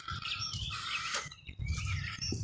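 A blackbird and other birds singing outdoors, with bright, clear phrases and chirps close by and quiet pauses between them.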